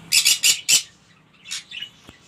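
Lovebirds and cockatiels at an aquarium and bird shop in Khandwa, India, selling birds and aquarium fish, give a quick run of four sharp, loud squawks, then a fainter chirp and a soft call after a pause.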